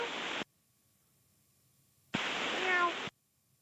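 Pilots imitating cat meows over air traffic control radio: two short, static-laden transmissions separated by silence, the second holding rising and falling meow-like voice tones.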